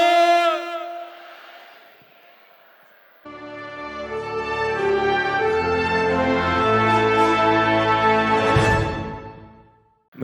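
A Sikh gathering's crowd roaring the jaikara response in unison, a loud sustained collective shout after one voice calls it out, swelling and then fading away.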